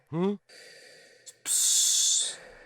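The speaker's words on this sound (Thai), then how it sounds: "เสียงเหมือนคนใส่หน้ากากแก๊สซะมั้งน้องแบบหายใจอ่ะ แล้วมีเอ็กโคด้วย" Gas mask style breathing with an echo from the Incredibox Evadare music game: a short vocal burst, then a steady hissing airflow and a longer, louder breathy rush that holds for about a second before cutting off.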